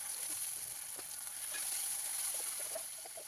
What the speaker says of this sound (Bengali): প্রথমে আমি একটু দারচিনি আর একটা এলাচ ফাটিয়ে দিয়ে দিলাম